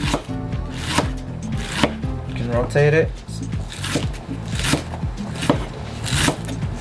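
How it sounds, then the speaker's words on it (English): A knife chops a head of lettuce on a cutting board in quick, rhythmic crunching strokes close by, continuing throughout while someone talks over it. "And you can just go from the side, just start chopping off small pieces."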